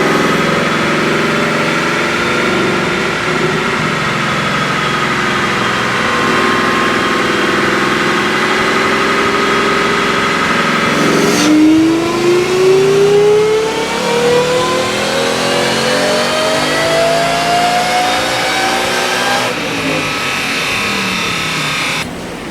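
A supercharged 2018 Mustang GT with a Whipple Stage 1 setup and tune on a dyno, its engine roaring loud and steady for the whole pull, the pitch climbing as it revs up through the gears before backing off near the end.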